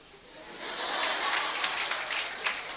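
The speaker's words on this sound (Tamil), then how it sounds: "பாதிக்கப்பட்டவர்கள் கைத்தட்டுகிறீர்கள்" Audience applause at a Tamil motivational speech event by Dr. Parveen Sultana, a steady wash of clapping that swells after the first half second and holds moderately loud throughout, with scattered sharper claps.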